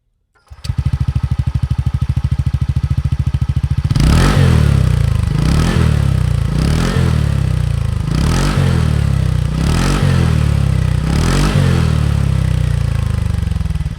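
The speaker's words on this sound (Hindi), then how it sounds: "आपको इसका एग्जॉस्ट नोट सुनाता हूँ" A 2026 TVS Ntorq 150 scooter idles close by with a steady thrumming exhaust, then revs up repeatedly in about six sharp blips that rise and fall in a regular rhythm.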